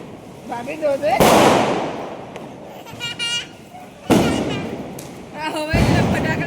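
Diwali firecrackers burst in a series of sharp, loud bangs, each followed by a brief rumbling decay, with people chatting and exclaiming between the blasts.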